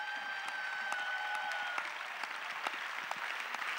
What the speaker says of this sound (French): Clap truly.